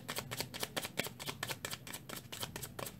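Tarot cards are shuffled repeatedly in quick, crisp riffling bursts, close and fairly quiet, with no talking.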